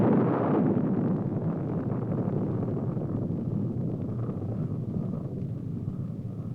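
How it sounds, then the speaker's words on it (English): A Polaris solid-fuel missile launches from a submerged nuclear submarine, its motor a steady, dense broadband roar that starts loudest and holds as a continuous rushing rumble to the end. "The Aerojet General Corporation developed and is producing the solid fuel motors for Polaris, shown here now being fired from the submerged submarine"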